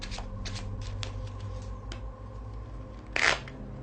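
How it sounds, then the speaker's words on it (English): Playing cards being cut and shuffled by hand, quick riffling clicks and flutters with a louder burst of cards near the end, close up and without talk. "give it a couple cuts and a couple shuffles"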